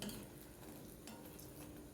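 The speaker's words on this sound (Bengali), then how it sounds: "বড়াগুলো আমি ভাজা বসিয়ে দিয়েছি" Fritters (bora) frying in a pan give a steady, close sizzle with soft stirring and faint utensil clinks, continuous for the whole stretch, with no talking.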